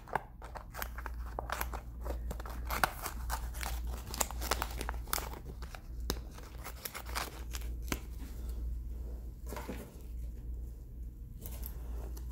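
Small, cheap folding scissors snip and crunch through a package, with crinkling and tearing of the packaging in a busy run of close, sharp cuts and rustles, no talking.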